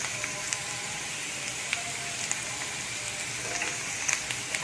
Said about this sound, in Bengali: বাঁধাকপিটা অ্যাড করে দেওয়ার পর এটাকে আমি এর সাথে আমি ভালো করে একদম একটু হালকা ভাজা ভাজা করে নেব